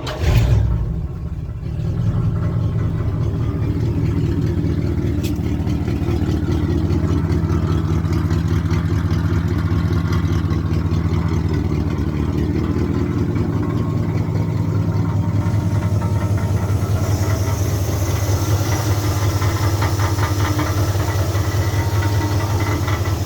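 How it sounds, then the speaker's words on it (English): A 1973 International 1310 truck engine idles steadily throughout, a loud continuous low rumble with a loose exhaust pipe hanging off the manifolds knocking against the frame rail in faint rhythmic clanks, no talk. "That clanging you hear, that's just the exhaust pipe that's hanging off the manifolds, touching the frame rail a little bit."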